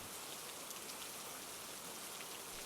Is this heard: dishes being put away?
no